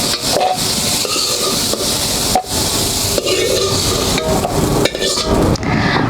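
Potatoes and broccoli stalks fry in a pan with a dense, continuous sizzle, punctuated by scraping and knocking of a utensil against the pan, close and fairly loud.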